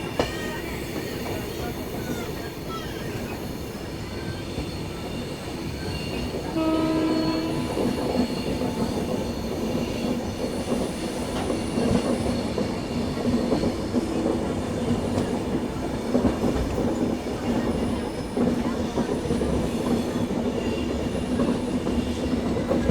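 The Hussain Sagar superfast express from Hyderabad to Mumbai runs at speed after leaving Chittapur, a steady loud rumble of wheels with clickety-clack and occasional squeal, plus a brief tonal horn-like blast early on.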